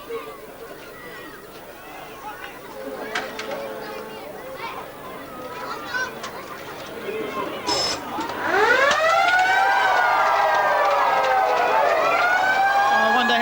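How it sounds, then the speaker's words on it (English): At a 1999 South West Football League grand final, the timekeeper's siren sounds loudly, wailing in long rising and falling tones above crowd noise and talk. "I wonder how the timekeeper can play the siren when they haven't balls not in play."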